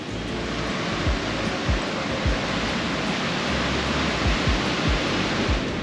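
Snow Falls waterfall in Newry, Maine pours in a steady, dense roar heard from close by, broadband rushing water with some low wind buffeting on the microphone and no voices.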